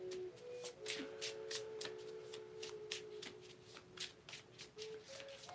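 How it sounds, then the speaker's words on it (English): Repeated crisp riffling of tarot cards being shuffled by hand, a quick irregular run of flicks, close and quiet over a faint background hum. "shuffling and pulling cards"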